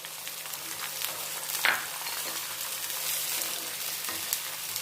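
Onions and green chillies sizzle steadily in a hot pan while roasted semiya pulav is cooked, a constant close frying hiss with a brief stir or clatter near the middle.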